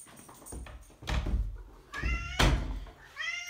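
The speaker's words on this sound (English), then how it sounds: "Oh, we also have a cat." A house cat meows indoors in a few short, close, fairly loud bursts, with a soft thump or two between the calls.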